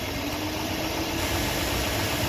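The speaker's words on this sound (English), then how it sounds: "I think it's less whiny, it's just the sound of the engine." A Chevy 5.3L V8 in a 2007-2014 Silverado or Tahoe idles steadily just after a serpentine belt change, a close, even engine drone with a faint high whine and no one talking.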